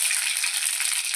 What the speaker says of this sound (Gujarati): રાઈ તતડી જાય પછી એડ કરશું